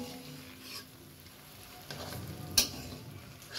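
Rohu fish fries in hot oil with a soft, low sizzle, broken by faint stirring scrapes and a sharp utensil clink partway through; fairly quiet and unaccompanied by speech.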